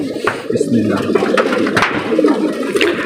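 Pigeons coo in soft, repeated murmurs close by, with faint bird calls and background noise throughout.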